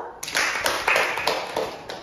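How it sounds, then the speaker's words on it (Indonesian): A small therapy group in a session room breaks into clapping, a dense patter of hand claps sustained for about two seconds at moderate loudness, with no talk over it. "beri tepuk tangan untuk Bapak Oke"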